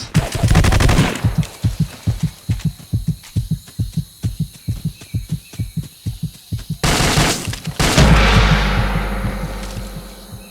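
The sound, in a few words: Soviet guns firing in video game Vietcong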